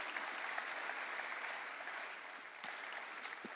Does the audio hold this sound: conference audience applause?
yes